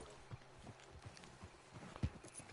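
Horse hooves clip-clop in Red Dead Redemption 2 as riders stop and dismount, a few soft, irregular hoof falls close by with one sharper thud near the end.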